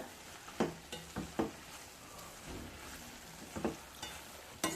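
A spatula scrapes and knocks against a pan while cucumber and dried prawn curry is stirred over a soft ongoing sizzle. The knocks come in irregular close bursts, and no voices are heard.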